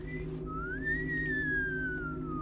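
A character whistles in the video game Tiny Bunny, a short note and then a single long sliding tune that rises and slowly falls, clear and alone over a low steady hum.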